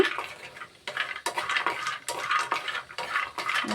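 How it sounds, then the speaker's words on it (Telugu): Cashews fry in a pan for kaju pakam, with soft sizzling under repeated clinks and scrapes of stirring, heard up close in bursts and with no talking. "మంచిగా ఫ్రై చేసుకోవాలి ఈ కాజుని"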